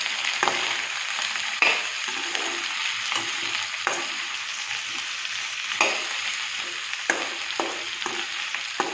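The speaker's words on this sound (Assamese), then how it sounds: "পিঁয়াজখিনি অকণমান ভাজি ল'ম।" Onions sizzle steadily in a hot pan as they fry for a pork and tomato dish, with a constant crackling hiss broken by occasional clicks of a spoon stirring.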